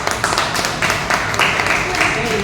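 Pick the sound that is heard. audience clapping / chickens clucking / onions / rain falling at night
audience clapping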